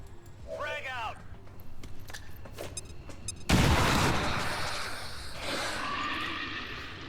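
A frag grenade in the tactical game Long War 2, heard as a sudden loud blast partway through that fades into a lingering rumble and debris, with talk and a whinny-like call before it.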